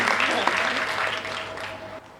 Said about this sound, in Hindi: एक बार जोरदार तालियां इनके लिए हो जाए मातृ शक्ति के रूप में।